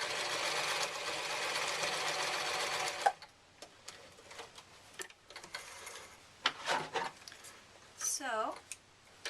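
A sewing machine runs steadily for about three seconds while stitching a simple fabric project bag, then stops. After that come handling clicks and a person speaking.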